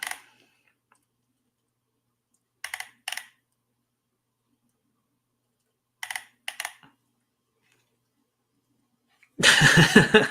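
Crisp computer mouse clicks come in short pairs, spaced several seconds apart in an otherwise quiet room, followed by a louder burst of sound at the end.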